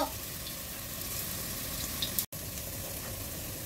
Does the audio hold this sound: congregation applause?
no